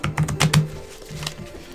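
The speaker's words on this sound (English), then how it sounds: "I'm gonna shuffle." A deck of tarot cards being shuffled by hand, a quick cluster of close, crisp card taps and riffles followed by a few softer slaps, with no talking.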